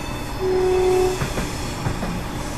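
A Class 170 diesel train pulls out of Edinburgh Waverley in a train driving game, a steady low engine rumble with a sustained horn-like tone early on and a few soft rail clunks, heard alone without voices.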